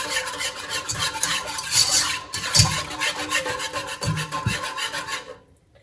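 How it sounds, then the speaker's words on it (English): Milk being whisked into a béchamel sauce in a pan, a steady, close scraping and swishing that runs almost unbroken for several seconds with a few louder strokes, then cuts off abruptly near the end. "I'm gonna mix this really, really well so we have no lumps in here."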